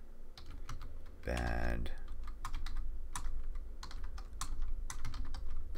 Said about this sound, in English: if I can type.